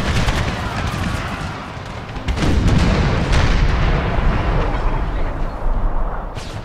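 Cannon and artillery fire from an American Civil War video game with the Confederate side, a dense, loud barrage of booms and shots rolling continuously with no pauses.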